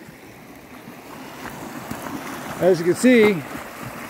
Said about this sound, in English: the creek is flowing very well